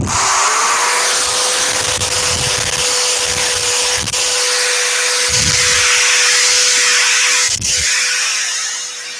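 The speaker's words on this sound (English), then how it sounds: "Let's pop a little bit of extraction on." A dust extractor whirs steadily beside a wood lathe while a turned bowl is sanded with 240 grit, giving a constant high motor whine and a tonal hum, with periodic low rumbling pulses from the sanding.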